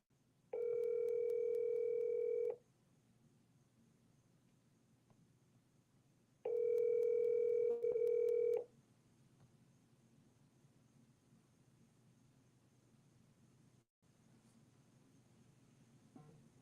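Telephone dial tone on a phone line, two steady loud bursts of about two seconds each separated by a quiet gap, heard alone with faint line hiss between them.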